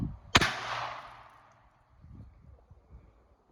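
A single sharp report from a Jennings J-22 pistol firing CCI Standard .22 ammunition rings out close and loud, decays quickly, and is followed by low handling noises.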